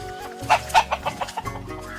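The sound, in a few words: chickens clucking in the shade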